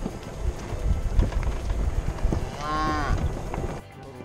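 Cattle out on an Oregon off-road trail give one clear, drawn-out moo near the end, heard over wind and rumbling, scuffing ground noise.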